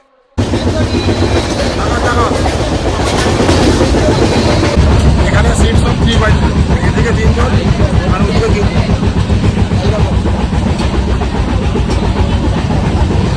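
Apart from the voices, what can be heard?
Tamralipta Express train running fast, loud noise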